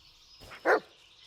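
A single short dog bark from the horror video game Blair Witch, sounding once at moderate distance over a faint, quiet ambient hiss, with no talking.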